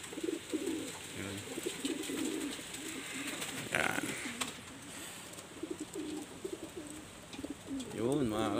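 Pigeons coo in soft repeated low phrases close by, layered over a hushed background, with someone speaking briefly near the end.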